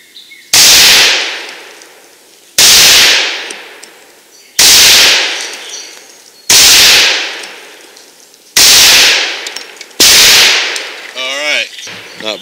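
Six loud, sharp reports from a Desert Eagle .44 Magnum pistol fired semi-rapid at a target 30 feet away, spaced about two seconds apart, each with a short ringing decay.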